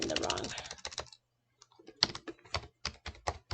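A password is typed on a computer keyboard in quick bursts of crisp, close keystroke clicks, separated by a short pause, with a voice talking at the start.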